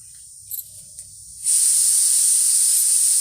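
After a couple of faint clicks, a pressure cooker boiling chickpeas whistles: a loud, steady high-pitched hiss of escaping steam starts abruptly and continues without a break.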